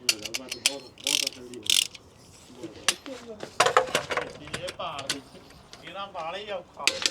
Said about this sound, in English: now I'm going to just double check using our torque wrench